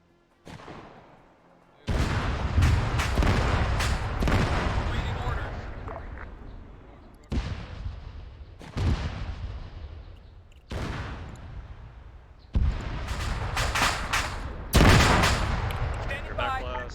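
Rocket launches and explosions from an anti-tank and grenadier training session in a military shooter game, loud booming blasts repeating at intervals, some clustered, under radio-style team chatter.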